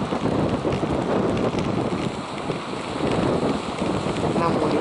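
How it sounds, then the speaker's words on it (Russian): Wind gusts and rain by the Psezuapse River near Lazarevskoye in January make a dense, steady roaring wash, loud and close with buffeting microphone wind, easing briefly midway before swelling again. "И ветер сегодня, дождь."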